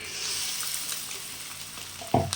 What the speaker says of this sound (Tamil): இப்போ வந்து நம்ம இந்த தக்காளி சாஸ் ஊற்றிக்கலாம்